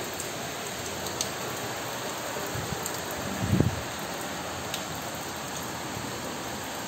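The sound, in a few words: rain falling on plants and trees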